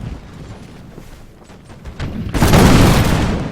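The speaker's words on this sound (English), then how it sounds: "In the name of the Czarina, fire! Just want a nice volley." A line infantry regiment looses a musket volley in a Russian-side grand battle at Stockholm, heard as a dense, loud burst of crackling gunfire that swells suddenly after a quieter stretch of distant battlefield rumble.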